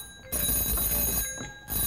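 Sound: telephone ringing

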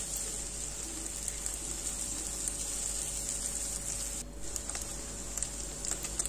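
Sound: frying in a pan for chicken sausage noodles

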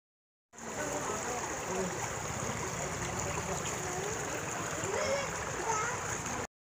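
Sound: stream water flowing down from the forest

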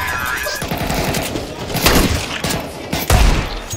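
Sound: gunshots in a video game on the map Nuke

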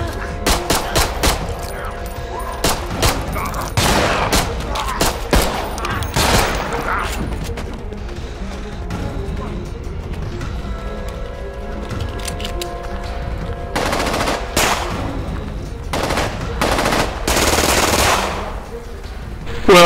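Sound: gunfire from a video game (Contagion)

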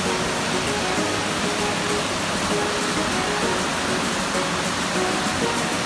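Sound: waterfall water rushing

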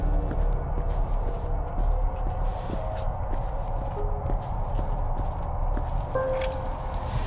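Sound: horse neighing and hooves in video game The Medium

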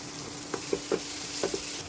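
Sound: puréed tomato added to masala, frying and sizzling

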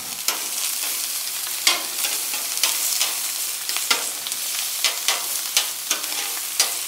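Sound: bacon and onions frying on a grill

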